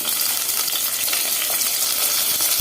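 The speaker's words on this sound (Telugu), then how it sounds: "ఇవి 2 స్పూన్లు నూనె వేసి ఇవి కొద్దిసేపు మగ్గించుకుందాం" Brinjal pieces fry in oil in a pan, giving a dense, steady sizzle with faint crackles and small pops, close and continuous throughout.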